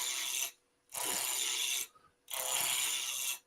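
Roughing gouge cutting a wooden spindle on a lathe, three loud, broad rasping bursts of about a second each with brief quiet gaps between passes.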